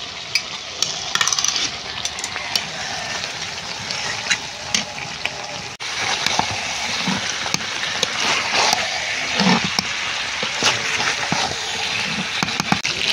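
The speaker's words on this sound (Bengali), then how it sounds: "মাংস কষানো একদম রেডি হয়ে গেছে না, এবার জল দিয়ে দিচ্ছি" Water is poured into a pan of sautéed chicken being cooked down for curry, a sudden louder rush of liquid hitting the hot pan breaking into an ongoing close sizzle and stirring, with crackling bursts afterward.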